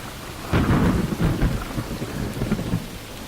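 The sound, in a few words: heavy rain and thunderstorm sound effect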